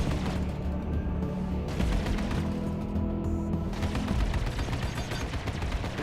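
Spaceship guns fire in the Star Citizen space combat game as dense, continuous rapid bursts of loud blasts with booming low rumble throughout and no voices.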